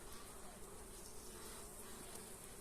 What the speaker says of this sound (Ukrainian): Спокійні бджоли.